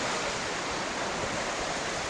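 Water spilling down small river cascades, a steady dense rush with no pauses, moderately loud and close.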